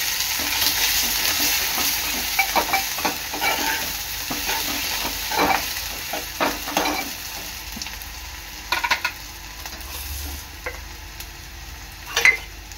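Onions sizzle steadily in a pan, fairly loud and close, while a spatula scrapes and taps against the metal in irregular bursts, with a sharper knock near the end.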